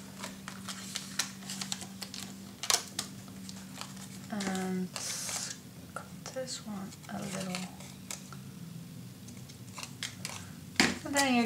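Scissors snipping paper tabs for a mini album page, a few crisp close cuts scattered among clattering tabletop handling noises, with someone talking over part of it.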